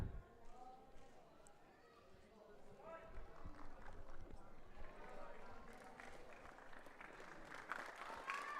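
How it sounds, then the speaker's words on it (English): Crowd applause from Davao supporters at a Philippines Football League match between Mendiola 1991 and Davao Aguilas, a distant, steady clapping that swells toward the end under a commentator talking. "And to the applause of the Davao supporters, Bugas has put in the work."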